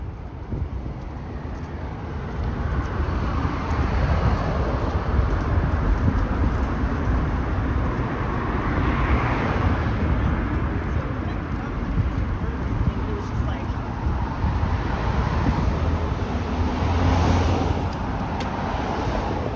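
Cars rush past beneath a road bridge on St. Clair Avenue West, their echoing roar filling the underpass as a steady, loud wash of traffic noise that swells and lingers throughout.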